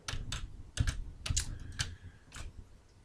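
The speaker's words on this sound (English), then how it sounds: "click the control button on your keyboard and then double click to deselect" Several sharp clicks from computer keyboard keys, spaced irregularly across a few seconds, close and fairly quiet, with no voices.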